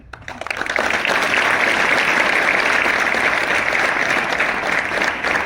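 An audience bursts into applause at a motivational talk on success, building quickly from scattered claps into a loud, dense, steady round of clapping that holds for several seconds.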